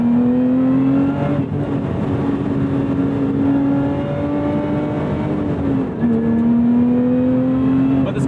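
A Lotus Emira sports car engine revving and shifting as its pitch climbs, briefly drops and climbs again, heard from inside the car as a loud, steady drone with no talking.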